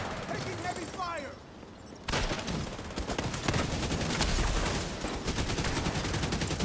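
Heavy automatic gunfire in a shooter game rattles in dense, continuous bursts after a brief quieter lull, with rapid sharp reports filling the scene and a voice speaking over the fighting.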